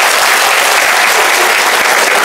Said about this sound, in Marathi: कळकळीची विनंती एकदा मंत्री महोदयांसाठी हृदयाच्या तळापासून जोरदार टाळ्या होत्या एकदा.